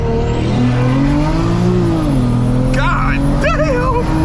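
A single big-turbo BMW 335i with a 3.5-inch exhaust pulls hard under acceleration, its loud engine note rising and shifting through the revs, with sharp whistling spool chirps near the end.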